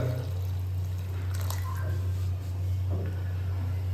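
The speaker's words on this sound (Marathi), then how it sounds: "आपण अजून पाणी टाकणार आहे याच्यात" Water is poured into a pot of black mutton curry, giving a close, soft run of pouring and bubbling drips over a steady low hum.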